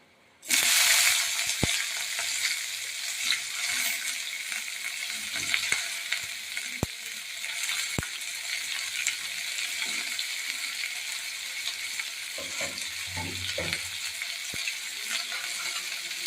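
Long-sliced onions hit about two spoons of hot oil with a loud, sudden sizzle, then keep frying under a steady crackling hiss with a few faint stirring clinks.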